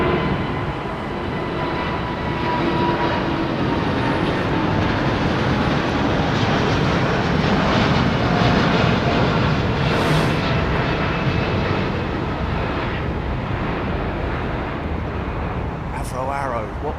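An American Airlines airliner bound for Charlotte departs London Heathrow Airport, a loud, sustained broadband engine roar that holds steady throughout, with someone talking over it.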